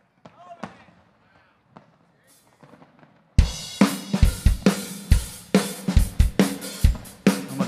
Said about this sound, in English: Little fireworks in the background.